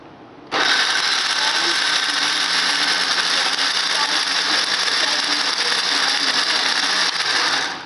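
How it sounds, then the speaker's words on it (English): Electric blender chopping tomatoes, onions and peppers, switching on sharply and running in a loud, steady whirring drone for about six and a half seconds before cutting off. "turn the blender on for 10 seconds continuously and stop"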